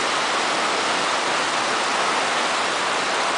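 Strong floodwater rushing through a street during a Marikina flood, a steady loud roar of dense broadband noise with no breaks or voices.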